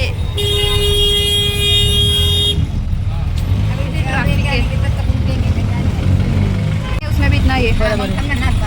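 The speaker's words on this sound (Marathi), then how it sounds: "अभी ट्रॅफिक आहे" Busy road traffic in Titwala, Maharashtra, with a sustained car horn blaring at the start and engines rumbling nearby, while people talk over it.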